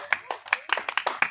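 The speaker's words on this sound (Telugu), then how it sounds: "ఒకసారి గట్టిగా చప్పట్లు కొడదాం." Hands clap loudly and close in a church congregation, a quick uneven burst of sharp claps across a second and a half with no talk.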